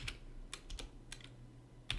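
Several quick, close keystrokes on a computer keyboard as a file name is typed, sparse clicks spread over two seconds against faint room hum.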